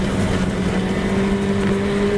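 Historic Formula Ford single-seaters pass at Silverstone, a loud sustained engine drone at high revs with a steady tone, close by and continuous throughout.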